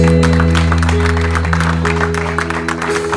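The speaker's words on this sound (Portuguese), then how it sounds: "Aplauda ao Senhor Jesus" Church congregation clapping together for Jesus, a dense steady patter of applause sustained over a held organ or keyboard chord, loud and continuous without a break.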